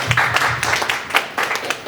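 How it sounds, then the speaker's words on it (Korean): Church congregation at a young adults' worship service gives a brief round of applause, moderately loud, quick overlapping claps from a small group filling the short moment. "박수 한 번만 주시겠어요?"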